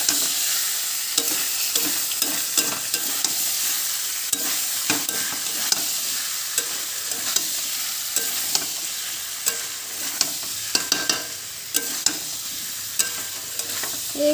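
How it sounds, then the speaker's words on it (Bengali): Soybean chunks with pumpkin frying in a pan, loud steady sizzle throughout with repeated scraping stirs and spatula clicks, close and continuous with no talking. "তো এবার সয়াবিনটা ছেড়ে দেব। ছেড়ে দিয়ে এবারে ভালো করে কষা করব।"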